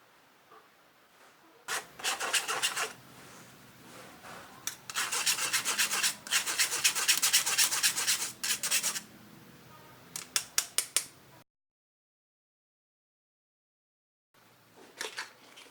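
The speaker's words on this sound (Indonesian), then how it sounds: "Lalu kita ayak tepung dengan susunya dulu ya" Flour and milk powder are sifted through a mesh sieve for nastar cookie dough, giving a rhythmic, scratchy rasping in bursts that start and stop, with a short silent gap near the end.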